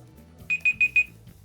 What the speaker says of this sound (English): Oop, let's stop the timer.